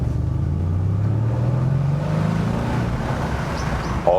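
A Mercedes-AMG C63 S V8 convertible idles with sport exhaust off, rumbling with a deep, steady exhaust tone, briefly rising in pitch as it revs slightly.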